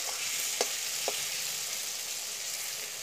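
Potatoes and tomatoes sizzle in oil in a pan with a steady hiss, broken by two quick scraping stirs of a spoon early on.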